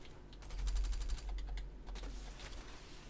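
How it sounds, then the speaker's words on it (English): Video game gunfire aimed at the player: a quiet, distant rapid rattle of shots with a clicky, typewriter-like rhythm over a low rumbling background. "Who is shooting me?"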